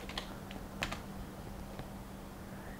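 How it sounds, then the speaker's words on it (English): Keys tapped on a computer keyboard while entering a user account name during setup of a home-built Intel PC, a few sparse clicks at close range over a steady background hum. "we'll go ahead and type it in now"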